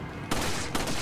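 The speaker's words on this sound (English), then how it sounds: "That's a flash grenade." Flash grenade in Resident Evil 4 going off as two sharp, loud bursts close together, the first followed by a sustained noisy wash and the second cutting in about half a second later.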